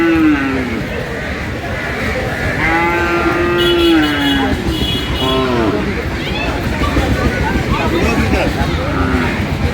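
Cattle, including cows and heifers, mooing repeatedly at a crowded cattle market, loud drawn-out calls over a steady babble of people talking nearby.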